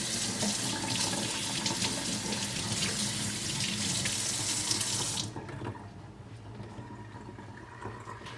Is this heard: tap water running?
yes